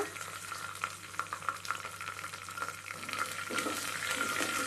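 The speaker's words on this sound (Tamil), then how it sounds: "இப்போ கருவேப்பிலையை போட்டுக்கலாங்க. இப்போது நம்ம பச்சை மிளகாவை போட்டுக்கலாங்க." Curry leaves and green chilies hit hot tempering oil for a ridge gourd milk kadaiyal, a continuous close sizzle and crackle broken by occasional stirring clicks, growing slightly louder toward the end.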